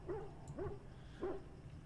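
A dog in the video game Dragon Age: Origins gives three spaced, fairly faint barks over a low background hum.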